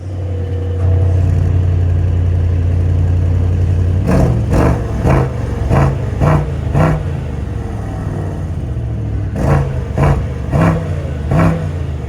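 A 2024 Mercedes S63 AMG V8 in Sport Plus mode idles with a deep steady drone, then blips the throttle in a series of sharp, loud revs with brief gaps between them.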